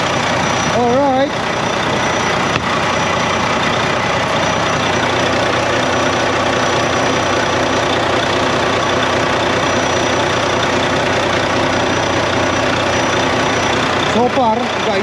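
An owner-operator's truck engine idles in a steady, loud low rumble that holds unchanged throughout. Someone talks briefly near the start and again at the end.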